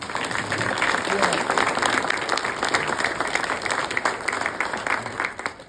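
An audience at an evening talk applauds in a sustained, even round of clapping from many hands, with faint crowd murmur underneath, tapering off at the end.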